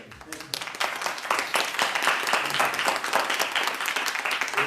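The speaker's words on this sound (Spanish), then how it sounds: "Un aplauso para ASAC, muchas gracias." Audience applause after a total solar eclipse observation report, a steady dense wash of many hands clapping that carries through the whole stretch at moderate volume.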